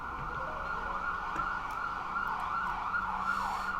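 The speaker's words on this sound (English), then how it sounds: "You hear sirens coming from all these different directions" Several sirens wail at once from different directions, steady and rising and falling, heard at a distance over faint traffic.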